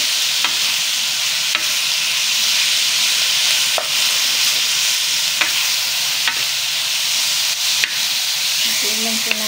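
Ground pork stir-fried in a pan for a bitter melon (ampalaya) dish, giving a steady loud sizzle with periodic scrapes and clicks of a utensil stirring, no voices.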